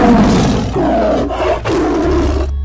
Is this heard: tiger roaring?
yes